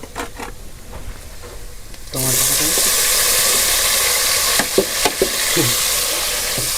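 Tomatoes hit hot oil in a pan on a wood-fired clay stove, bursting into a loud continuous sizzle after a quieter start, with several scraping stirs and knocks of a spatula over the frying.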